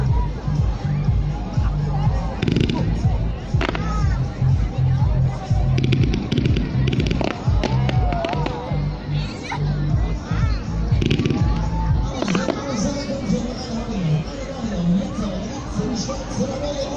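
A Cool Message fireworks battery of 51 shots goes off at a live show at Erlebnishof Klaistow, with a rapid series of bangs and crackles over about half the stretch, amid crowd chatter and a voice talking.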